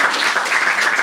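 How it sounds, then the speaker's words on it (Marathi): Audience applause at a Marathi stand-up comedy crowd-work show, a steady burst of clapping from the crowd filling the whole short moment without a break. "एकदा टाळ्या वाजवायच्या."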